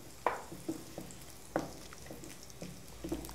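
Onions sizzle softly in a 5.2-litre electric cooking pot, with a few sharp stirring clanks spaced about a second apart over a faint, low frying hiss.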